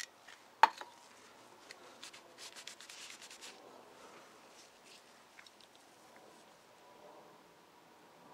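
A rag wipes clean a part from a Hydro Gear hydrostatic garden tractor transmission during a rebuild, giving a single sharp click followed by soft, quiet rubbing strokes in an irregular rhythm, with no talking.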